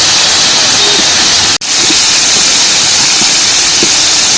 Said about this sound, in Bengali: এবার জোরে জাল দিয়ে ভেজে নেব